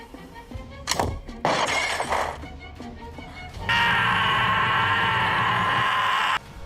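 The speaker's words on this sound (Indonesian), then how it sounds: "tembakan itu akan menyebabkan botol itu pecah" A gunshot shatters a glass bottle held in a man's hand in a film scene: a sharp burst of breaking glass, a second crash, then a loud sustained ringing noise.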